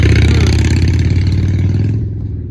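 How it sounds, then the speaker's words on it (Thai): A loud, close motorcycle engine runs steadily, its low throb holding for about two seconds before easing off slightly at the end. "เสียงรถมอเตอร์ไซค์"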